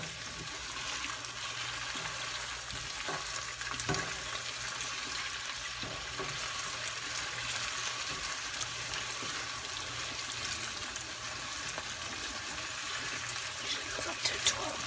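Potatoes and onions fry in a pan with a steady, even sizzle that hisses on unbroken throughout, with a few small pops and clicks along the way.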